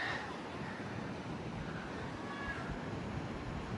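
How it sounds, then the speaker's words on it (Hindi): A flowing mountain river with lapping waves makes a constant broadband rush, steady and fairly loud throughout, mixed with some wind buffeting the microphone. "दरिया बहता हुआ, वाह, और उसकी लहरें, उसकी आवाज़"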